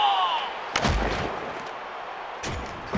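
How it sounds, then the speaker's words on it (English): A heavy body check slams a player in the NHL 2K3 ice hockey video game, Buffalo Sabres versus New York Islanders. A booming impact thud is followed by a second heavy crunch over steady arena background noise. "Bone-crushing hit by Scatcherd."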